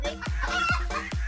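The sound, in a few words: chicken clucking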